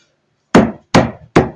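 Three heavy, dull thuds land in quick succession after a moment of silence, a heavy smooth-headed hammer pounding beef on a board.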